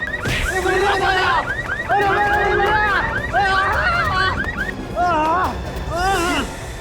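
A police-style siren wails in repeated rising and falling bursts, loud and close, with short gaps between the cycles and agitated voices shouting underneath.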